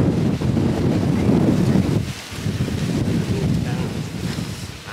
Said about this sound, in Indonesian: sayangnya angin kencang banget ini